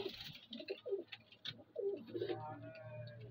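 Pigeons on a rooftop loft cooing in soft repeated throaty calls, fairly near but quiet, with a faint low background hum.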